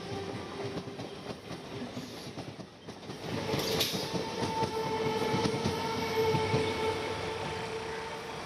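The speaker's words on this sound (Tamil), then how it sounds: "சென்னையிலிருந்து செல்லும் மின்சாரம் மற்றும் விரைவு ரயில்கள் தினசரி 400 மேற்பட்ட ரயில்கள் இவ்வழியாக செல்கிறது." A train passes on the Korattur railway line, a line carrying electric and express trains out of Chennai, its rumble and wheel clatter swelling from a distance into a loud, sustained roar with no voices.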